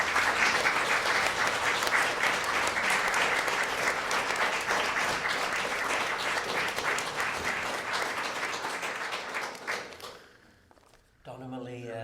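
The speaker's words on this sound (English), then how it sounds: "Raucous applause." Raucous applause from an audience, dense and loud clapping that holds steady for about ten seconds before dying away abruptly.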